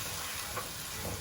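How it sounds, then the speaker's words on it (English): Onions frying on medium heat in a pan, a steady soft sizzle and hiss with no talk over it. "While the onions are cooking"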